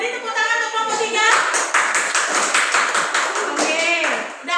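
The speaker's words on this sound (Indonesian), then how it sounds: "Oke, mari tepuk tangan untuk kelompok 3." In a classroom, a group of students claps for group 3, a rapid, bright patter of hands that starts partway through and runs steadily, with a voice speaking before and after it.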